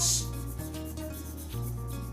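Steady abrasive rubbing of sandpaper against a hard cast resin shaving brush handle being turned, continuous back-and-forth strokes, close and moderately loud with no talking.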